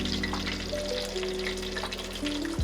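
Catfish pieces fry in hot oil with a steady, close sizzle and crackle that holds throughout, with a few faint higher tones and no talking.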